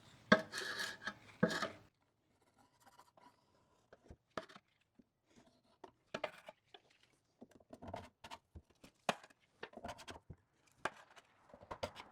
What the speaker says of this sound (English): I can now strip away that residue along with the old finish